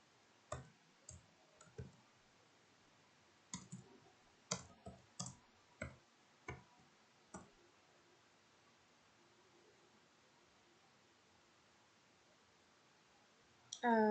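Computer keyboard and mouse used in STATA produce a dozen sharp clicks, spaced irregularly in the first half then stopping, close and quiet over faint room noise.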